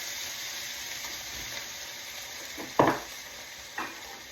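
Chicken and sugar snap peas in a stir fry sizzle with a steady, close frying hiss, broken by two brief louder pops or clatters near the end, with no talking.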